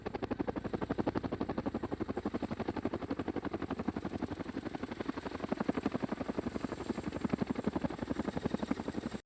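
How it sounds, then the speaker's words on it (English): A CH-47 Chinook, a heavy-lift military helicopter with tandem rotors, thumps with fast, steady rotor blade pulses over a continuous engine whine, loud and close for the whole stretch. "The CH-47 is among the heaviest lifting Western helicopters."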